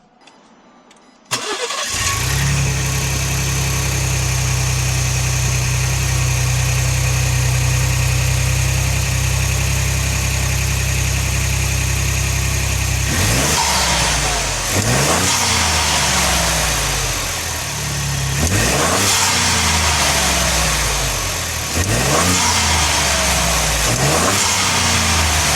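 A Ford Bronco fitted with an aftermarket cold air intake cranks to life and settles into a loud, steady idle, then gives several rising revs that swell and fall back, heard close with no talking.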